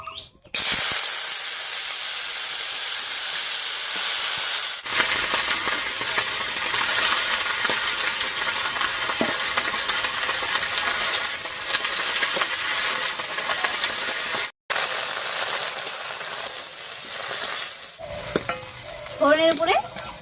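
Chopped bottle gourd shoots and eggplant sizzle loudly in hot oil tempered with torn bay leaf, with scraping stirring throughout, a brief hush midway and a few clinks near the end.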